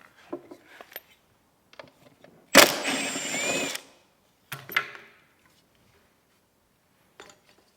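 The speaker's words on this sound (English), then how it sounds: "We're going to use our T30 Torx bit to pull these off." A power driver fitted with a T30 Torx bit spins out screws from a Tesla Model 3 amplifier, with one sustained whirring burst and a shorter second run amid quiet clicks and handling noises.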